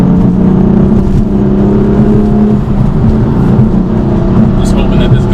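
A BMW M4 on new Nitto NT555 G2 tires accelerates hard in Sport Plus mode, its engine droning loud and close with a rising tonal whine and steady road rumble, a voice speaking over it.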